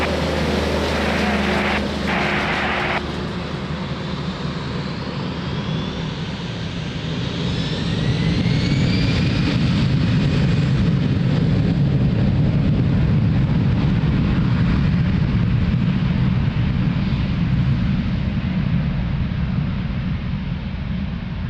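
An Airbus A320 takes off at Lisbon Airport, the jet engines spooling up into a loud, sustained roar that builds and then holds steady for a long stretch with a rising whine.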